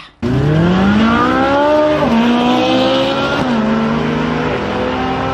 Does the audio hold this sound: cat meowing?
no